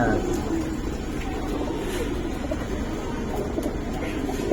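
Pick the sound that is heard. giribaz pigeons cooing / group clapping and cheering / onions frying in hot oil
giribaz pigeons cooing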